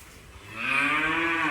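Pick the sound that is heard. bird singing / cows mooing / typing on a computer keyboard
cows mooing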